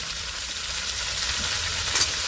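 Pumpkin pieces fry in a pan, giving a steady, close sizzle with a light hiss throughout and no voices.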